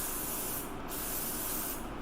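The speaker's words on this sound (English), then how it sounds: "it's like sunscreen in an aerosol spray" Aerosol sunscreen sprays in a steady, close hiss that briefly dips and resumes, with no voices over it.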